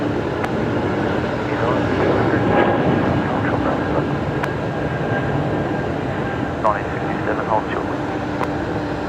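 Airbus A220 airliner taxiing at Brisbane Airport, a steady broad engine roar heard from nearby and continuous throughout, with people talking over it and faint radio chatter.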